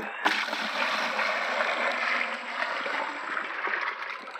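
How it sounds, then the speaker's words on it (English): Water pours into a poultry waterer holding about 2.5 gallons, a steady rushing splash that starts abruptly and continues evenly, fairly quiet and close. "And then we're going to fill it up with some water."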